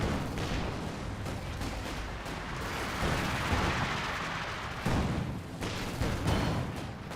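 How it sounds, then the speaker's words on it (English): Vickers K machine guns and a T-70 light tank firing in a Company of Heroes 2 battle, a continuous dense barrage of rattling gunfire and heavy booms rolling on without pause. "Got the Vickers K units firing away."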